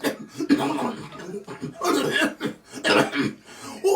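Several harsh coughs burst out close up, uneven and throaty, with a few voiced, laugh-like sounds mixed in.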